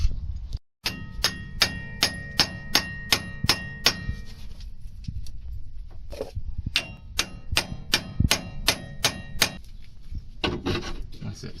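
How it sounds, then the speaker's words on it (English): Steel hammer blows ring out against a Toyota Aygo-type car hub to shock the ball joint apart, a long run of sharp metallic clangs in two regular bursts, close and loud, with faint background noise between. "you can either hit on this piece with a hammer, and it should shock it to separate it"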